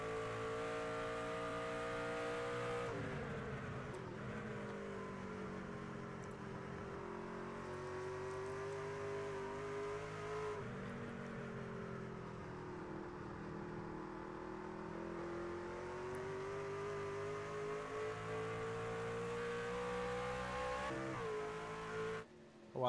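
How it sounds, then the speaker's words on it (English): Engine of a race truck in the iRacing Mayes Construction Truck Series at Corning Glass Museum, droning steadily at a soft throttle with rising and falling pitch, heard up close without talk. "you hear just how soft he is on the throttle, just not able to get the power down"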